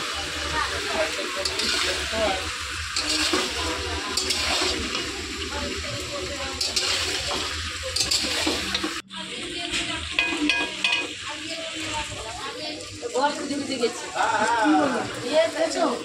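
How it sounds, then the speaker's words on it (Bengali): Potatoes with spices stir-fried in a pan, a dense continuous sizzle with scraping stirs, and a brief cut halfway through before it resumes, while a voice talks over it. "এবারে আলু আর সব কিছু মশলা ভালো করে কষাতে হবে।"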